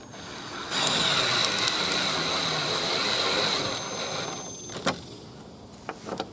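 A screw is driven into old, rotten wooden gate boards with a power driver, producing a continuous grinding whir for several seconds that stops abruptly, then a few short clicks and knocks, with no talk.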